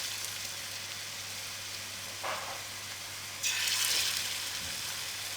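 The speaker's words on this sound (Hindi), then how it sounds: "अब इसमें हम सब्ज़ मिर्चों को फ्राई करेंगे।" Green chilies fry in hot cooking oil over a slow flame, a soft steady sizzle that jumps to a louder, crackling burst partway through, close by and with no talk.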